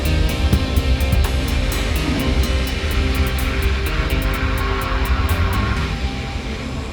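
A small airplane's engine drones steadily and loudly in flight over mountainous terrain, a constant close hum with faint regular ticking on top and no talking.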